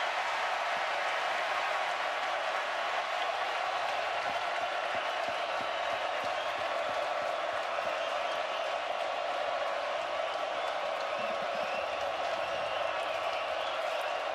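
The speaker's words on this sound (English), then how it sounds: "Listen to the crowd." Baseball crowd at an NCAA World Series game holds a steady, dense roar of cheering and clapping, distant and unbroken throughout.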